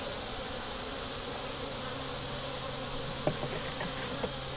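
Honeybees in a nuc hive make a dense, steady buzzing swarm-drone close by, with a few faint clicks and taps toward the end.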